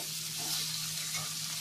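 Onion and tomato frying together in a pan for dhaba-style egg curry, a soft, even sizzle close by with light stirring, no voices, over a low steady hum.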